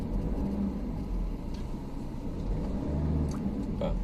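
A vehicle on a jungle safari road rolls forward with a low, steady engine rumble and faint road noise, close and even throughout.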